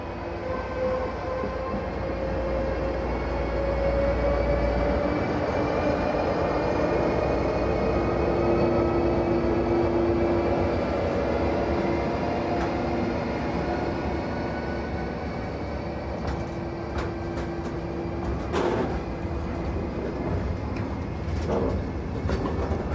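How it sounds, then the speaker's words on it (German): A Siemens DualMode locomotive rumbles steadily in diesel mode at moderate speed, with a continuous loud engine drone, faint clicking from the rails and a few brief higher tones, no voices. "Im Diesel-Mode wird mit mäßiger Geschwindigkeit gefahren."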